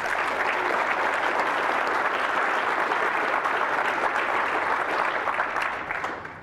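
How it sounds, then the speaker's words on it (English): Sustained audience applause in a large conference hall at the closing keynote of a tech event, dense and even before fading at the end, with no talk over it. "Let's give them a round of applause."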